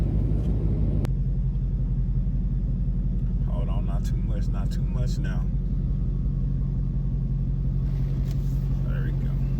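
An automatic drive-through car wash running over a car, a steady loud low rumble of machinery around the vehicle with brushing and spraying bursts midway and again near the end, as a person inside speaks briefly.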